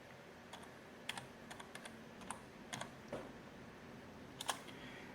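Scattered keystrokes on a computer keyboard, a password being typed at a Raspberry Pi 4 running Ubuntu Server, coming as quiet separate taps and short clusters over low background hiss.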